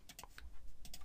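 A computer keyboard is struck in a quick burst of light, close-up key taps, a few clicks within about a second, faint and alone.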